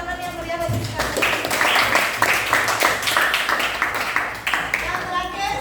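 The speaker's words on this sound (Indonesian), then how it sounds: "beri tepuk tangan yang meriah bagi sekali" Classroom applause after a student presentation in a Hindu religious education lesson, with dense clapping running steadily for several seconds, mixed with voices and chatter throughout.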